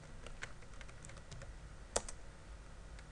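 Scattered, quiet taps on a computer keyboard, with one sharper keystroke near the middle, against a faint steady room hiss during Java certificate setup.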